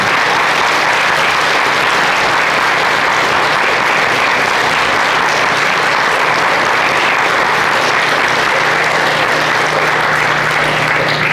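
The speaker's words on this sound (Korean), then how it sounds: "함께 감사와 존경의 박수를 어, 보내주시기 바랍니다" A crowd at a Korean Liberation Day ceremony in Gyeonggi Province claps at length in thanks and respect, a dense, steady, loud wash of hands with no pause.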